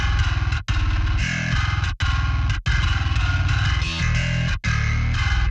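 Grit and sub layers of a GenBass 2 bass guitar blended into one huge distorted metal bass riff, thick low end under buzzing saturation, played loud and alone in chugging phrases with brief pauses.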